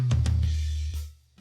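Drums for a track, squashed by a Distressor compressor, give a few punchy hits over a dense, sustained low boom that swells and then fades.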